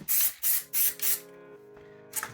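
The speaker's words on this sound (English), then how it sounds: "spray the backside" Four short, loud hissing bursts from a spray can in quick succession, then a pause with a faint tonal hum and one more brief spray at the end.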